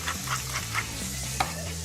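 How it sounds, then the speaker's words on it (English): Pancetta sizzles and crackles in a hot pan, with a few stirring scrapes and one sharper clink near the end, close and steady throughout. "Now, start frying off that pancetta."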